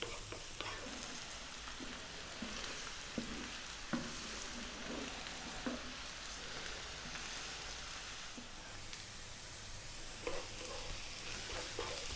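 Eggplant sautéing in a pan for a vegan spinach rigatoni, a soft, steady sizzle broken by intermittent scraping stirs, fairly quiet and close.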